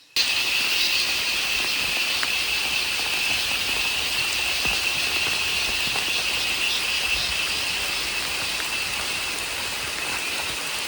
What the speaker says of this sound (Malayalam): നമ്മൾ തിരിച്ചു വരുമ്പോൾ നല്ല മഴ കിട്ടി